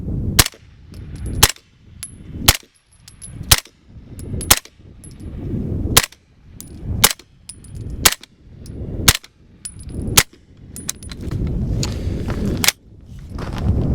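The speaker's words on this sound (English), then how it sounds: "most of the noise that you're hearing is action noise and brass falling on the ground" A CMMG radial delayed blowback rifle fitted with a HiTec Arms SD suppressor fires about a dozen evenly spaced muffled shots, each a sharp crack of action noise followed by tinkling brass landing nearby.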